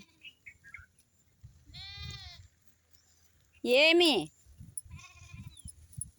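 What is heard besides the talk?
young goats and sheep bleating while lying in the sun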